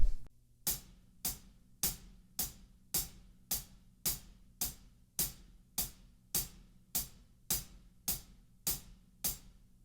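A hi-hat cymbal is struck in a steady, evenly spaced run of about sixteen crisp, bright hits, each decaying quickly before the next, played alone and fairly quiet.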